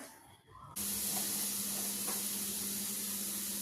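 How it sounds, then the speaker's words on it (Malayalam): Chicken pieces hit hot oil with an abrupt, loud sizzling hiss after a quiet moment, then the frying settles into a steady close crackle with a couple of faint knocks. "അപ്പോൾ എണ്ണ ചൂടായിട്ടുണ്ട്, അതിലേക്ക് ഞാൻ ചിക്കൻ ഇട്ട് കൊടുക്കുകയാണ്"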